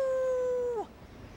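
A person's voice imitates a wolf howl, one sustained, steady tonal note that bends downward and stops abruptly, loud and close, with no other voices.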